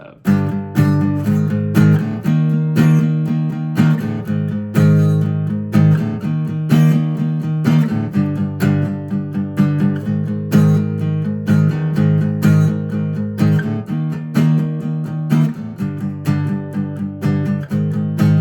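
Strummed acoustic guitar chords played steadily in a rhythmic pattern, loud and close, with no voices.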